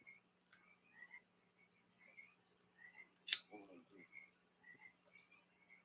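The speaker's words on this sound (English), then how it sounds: "you can hear our friends, the frogs" Frogs croaking outdoors in a repeated, fairly faint rhythm of short calls, with a sharp click partway through and a little low talk in the background.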